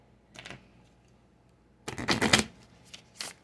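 Angel cards shuffled by hand in a few bursts: a brief riffle, then a longer, louder flurry of flicking and slapping card noise, and a final short riffle, close and with no talking.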